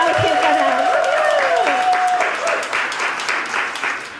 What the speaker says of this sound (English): So let's give thanks, round of applause to Ada.